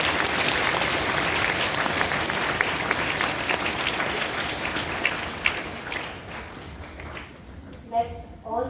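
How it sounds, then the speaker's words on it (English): Audience applause at a school Establishment Day event at Carmel School, Dhanbad, a dense, steady roar of clapping that fills most of the stretch, then thins out near the end as a voice starts speaking. "let's also give them a good round of applause"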